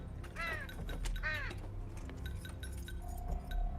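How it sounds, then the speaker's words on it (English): Crows give two loud, harsh caws close by in Final Fantasy 15, followed by faint clinking and a steady low background hum. "Why are the crows even aggressive?"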